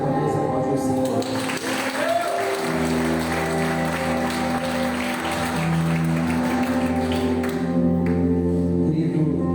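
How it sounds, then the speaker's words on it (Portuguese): A congregation at a Baptist church's Wednesday worship service applauds, with sustained clapping over held musical tones and a voice speaking through it. "Você pode mais uma vez aplaudir o Senhor."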